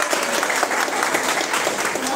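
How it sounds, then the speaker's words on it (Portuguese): An audience applauds teacher Bruna at a fitness academy event, a dense, steady round of clapping from a nearby crowd, lively and even across its short span. "uma salva de palmas para ela de novo."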